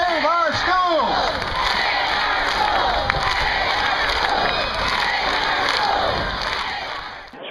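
A large outdoor crowd at a school education rally cheers and shouts continuously, with whoops rising at the start and a dense, loud roar sustained throughout.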